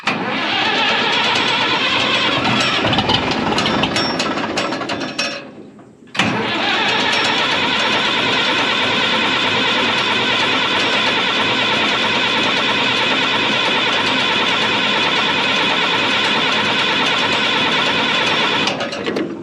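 A rare Minneapolis Moline G707 tractor, abandoned and parked for 13 years, running loudly with a harsh rough engine note, dropping out briefly around the five-second mark before catching again and running steadily to the end.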